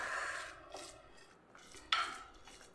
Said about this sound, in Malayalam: ഇനി ഇതൊരു തവി വെച്ച് നമുക്കൊന്ന് നല്ല പോലെ ഒന്ന് മിക്സ് ചെയ്തെടുക്കാം